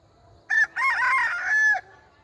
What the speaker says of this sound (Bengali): এবং মোরগ ডাকছে।